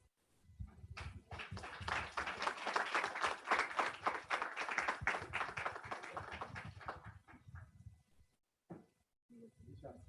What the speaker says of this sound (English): Let's put our hands together for Peter Lugendo.